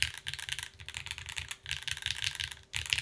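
Fast, steady typing on a Pangea Mini 60% mechanical keyboard prototype with a deep-leaning tone, keystrokes clattering close up in dense bursts with brief pauses between runs.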